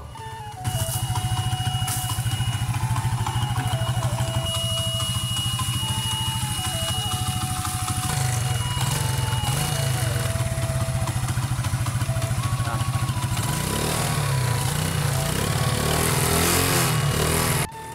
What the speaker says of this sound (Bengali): তো বাইকটি একটু সাউন্ড কোয়ালিটি শোনেন।